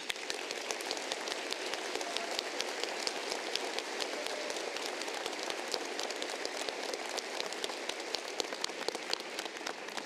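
Large commencement crowd at Arkansas Tech University gives a dense, even round of applause for the faculty, sustained at a moderate distance with no gaps.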